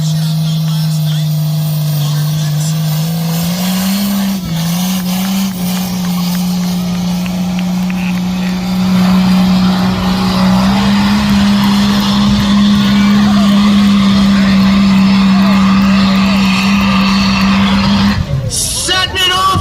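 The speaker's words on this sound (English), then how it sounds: "He threw a drive shaft out last night." A 1997 Dodge 2500 truck roars steadily at full throttle during a tractor pull, its loud engine drone rising in pitch partway through and cutting off near the end, with crowd or announcer voices faintly underneath.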